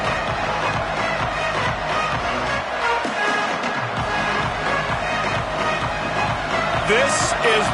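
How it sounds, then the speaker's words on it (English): A dense stadium crowd roars steadily in a college football video game, College Football 27, a constant broadband swell with no pauses or quiet stretches. "This crowd ready to make its presence known"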